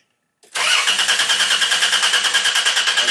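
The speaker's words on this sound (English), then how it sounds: "and crank the engine." A car engine cranks with a fast, even chugging rhythm, loud and close, starting abruptly after a brief silence and continuing without catching.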